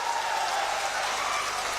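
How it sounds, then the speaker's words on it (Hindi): Dense, steady applause from a large crowd at a political rally in Supaul, Bihar, a continuous hiss of clapping filling the whole moment without any clear voices. "जोर से ताली बजाओ अनिरुद्ध जी के लिए।"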